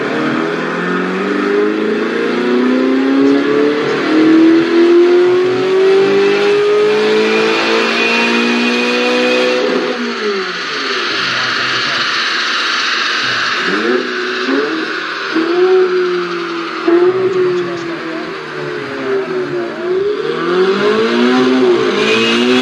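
A car with a four-stroke engine revs repeatedly, rising and falling in pitch with several throttle blips, close and loud with no talking.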